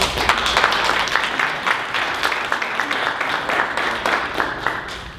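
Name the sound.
audience applause for Gregory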